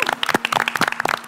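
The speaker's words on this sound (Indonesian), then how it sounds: "Tepuk tangan lu dong." Students clap their hands in scattered, crisp individual claps with an uneven rhythm, close and moderately loud, forming a short burst of small-group applause indoors.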